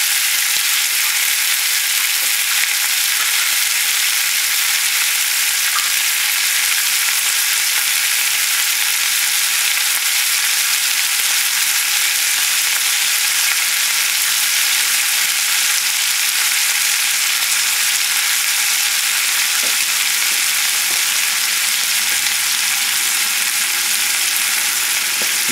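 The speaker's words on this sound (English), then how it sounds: "And put the onions and the tomato with it and the garlic." Chicken breast sautéing in a pan with onions, tomato and garlic gives a loud, steady sizzle that runs unbroken the whole time, with no voices.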